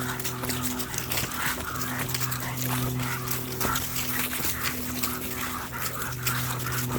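A dog barks and whimpers outdoors in scattered short yelps over a steady background rush, with no talking.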